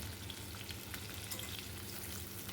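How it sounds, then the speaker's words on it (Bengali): Potato and cauliflower pieces with a pinch of turmeric fry in a pan, a continuous dense sizzle with soft crackles, close and steady with no talking. "এবার আমি আলু ফুলকপিটাকে একটু সময় নিয়ে ভেজে নেব"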